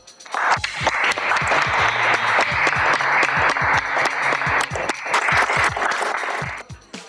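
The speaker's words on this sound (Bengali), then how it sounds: "আমার কাকিমার জন্য আরো জোরে হাততালি চাই।" A crowd applauds an aunt's singing with brisk, loud, steady clapping that runs for several seconds before tapering off, and a few low thuds sound underneath.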